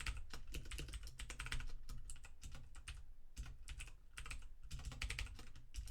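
Computer keyboard keys typed steadily while writing Redux and React code, dense clicking in quick bursts with brief pauses, close and fairly quiet, no talk.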